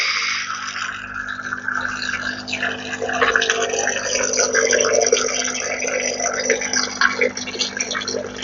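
Hot water flows and drips from a Saeco coffee maker after a leak repair, a steady broadband splashing and trickling that runs continuously throughout, with faint talk beneath it.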